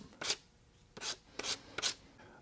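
Corners of a wooden marking gauge are lightly sanded by hand in four short, soft rasping strokes, close and quiet, with brief gaps between them.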